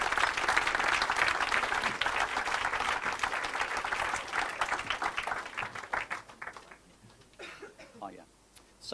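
Audience at an awards ceremony applauding with steady, dense clapping from a large crowd that tapers off into scattered claps and murmuring voices toward the end.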